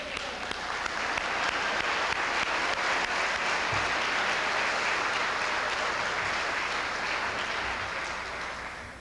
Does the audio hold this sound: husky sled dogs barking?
no